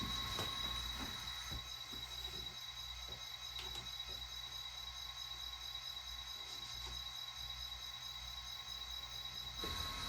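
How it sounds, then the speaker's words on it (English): A Santa Fe passenger train, train 8, pulls out of Lone Star Station toward Glen Rose running in reverse with the cab car leading; a steady low rumble of rolling cars with faint wheel squeal carries throughout. "The cab car eases train 8 out of Lone Star Station towards Glen Rose"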